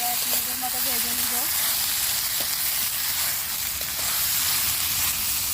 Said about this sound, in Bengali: এভাবে আমি 1 মিনিট ভেজে নিব, অত বেশি ভাজতে হবে না, মাত্র 1 মিনিটের মতো ভেজে নিব।